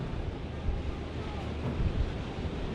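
Strong wind of 40-plus mph gusting across an open boatyard where scaffolding surrounds a 100-foot boat, a steady loud roar buffeting the microphone throughout with no voices.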